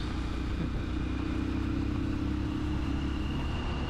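Honda Supremo motorcycle with a sidecar climbing uphill under load, a steady droning engine with a low, throbbing rumble, heard close up throughout.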